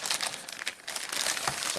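A plastic bag from a tablet unboxing crinkles and crackles in quick irregular bursts, close and fairly loud, with no voices.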